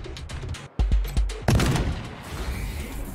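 Gunshots fired at a Scorpatron robot inside a mine in the game Wasteland 3, three sharp close reports in quick succession, the last one heaviest, then fading into a ringing echo.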